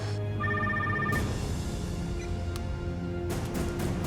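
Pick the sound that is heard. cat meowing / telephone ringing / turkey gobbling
telephone ringing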